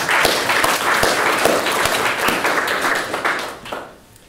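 An audience applauds at a Linux kernel memory model talk, a dense burst of clapping from many hands that holds steady for a few seconds, then tapers off.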